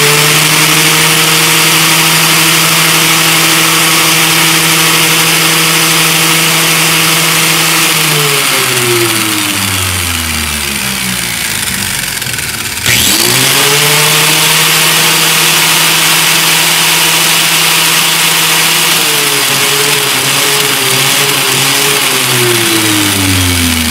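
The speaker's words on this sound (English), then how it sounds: "That's spinning at full RPM." An angle grinder powered through an inverter from AC, its motor spinning up to a steady high-pitched whine, winding down to a stop midway, then revving back up to full speed and holding there, loud and close with no talking.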